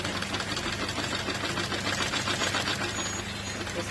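A sewing machine stitches along the neckline of a garment, running steadily and close with a continuous whirring hum for the whole stretch, with no pauses.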